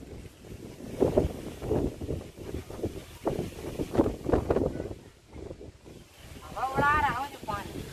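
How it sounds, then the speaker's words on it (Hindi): Strong wind gusts roar across an open outdoor spot under dark storm clouds just before heavy rain, a steady rushing buffet throughout while a person talks over it. "देखिए दोस्तों बहुत तेज हवाएं चल रही हैं।"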